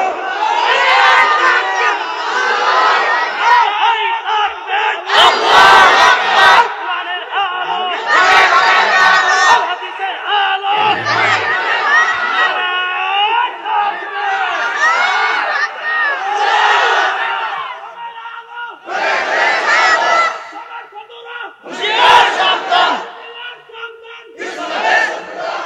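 A crowd at an Islamic sermon gathering in Manikganj roars takbir in answer to the preacher: loud, unified bursts of chanted shouting, several in a row, each rising and cutting off with short gaps between.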